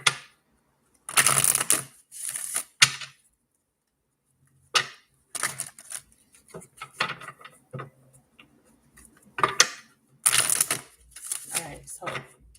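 Bursts of riffling paper cards, several quick shuffles separated by short pauses, close by and fairly quiet.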